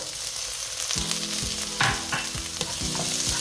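Ginger goes into a frying pan already holding onions for ginataang tilapia. A steady sizzle hisses throughout, with a sudden fuller crackle about a second in and a few spatula scrapes and taps after it. No one speaks.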